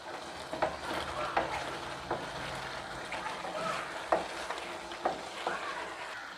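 Thick coconut milk halwa (thothal), starting to release oil, stirred in a pan, continuous soft scraping and gentle bubbling sizzle with regular spoon strokes, close and low in level, no voices.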